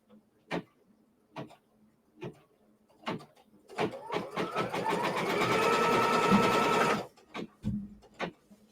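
An embroidery machine stitches down a quilt block, first in a few slow separate thumps, then in a fast steady run of stitching for about three seconds before slowing back to single clunks, close and alone.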